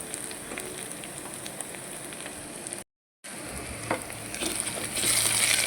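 Eggplant masala curry with kasuri methi and garam masala sizzles and crackles steadily in a pan, with a brief gap, then louder frying and stirring toward the end.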